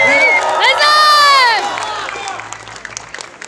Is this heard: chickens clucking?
no